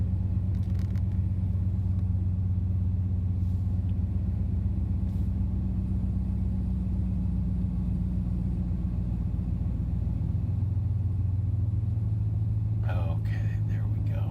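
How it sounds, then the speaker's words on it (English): A 2014 Ram 1500 Sport 4x4 with a HEMI V8 idles steadily while warming up, giving a continuous low rumble throughout, with brief faint rustling near the end. "let's hear how this HEMI sounds"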